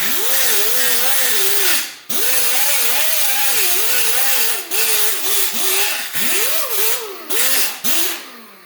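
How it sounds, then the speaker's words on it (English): Power grinder rounding off and smoothing metal edges on a homemade build, a steady loud whine whose pitch dips and rises as pressure changes, with brief breaks between passes. "So all I'm going to do is grind that down there, round out that edge there"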